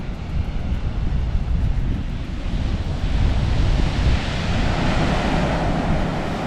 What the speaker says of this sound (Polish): po prawej stronie są duże fale, wzburzone to morze